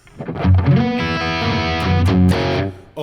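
Distorted electric guitar played through an R&R Amplification SL/LD preamp, a loud, close chugging riff of palm-muted chords with ringing accents and no voice.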